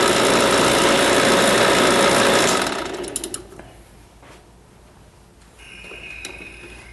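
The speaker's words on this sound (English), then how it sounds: "what I'm going to do is go ahead and turn off my vacuum pump" An HVAC vacuum pump drones loudly and steadily for nearly three seconds, then is switched off and winds down quickly, leaving a quiet room with faint rattles and a soft background hum.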